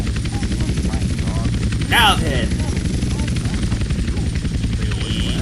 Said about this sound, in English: This helicopter is literally ruining my video.